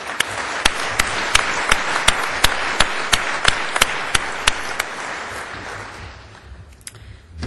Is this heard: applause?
yes